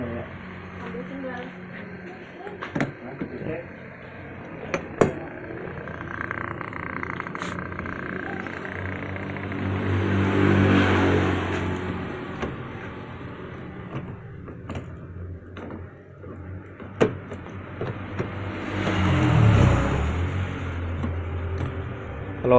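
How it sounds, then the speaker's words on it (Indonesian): A 2.5 non-turbo engine in an Opel Blazer runs and revs up twice in slow swells, loud and close over a steady idle, with occasional clicks and knocks. "Kita coba lihat mesinnya ya."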